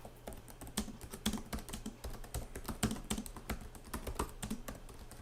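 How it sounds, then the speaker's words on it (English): Steady typing on the low-travel keyboard of a Huawei Matebook D laptop, a close, continuous run of crisp key clicks with no voice over them. "The keyboard is very nice to type on."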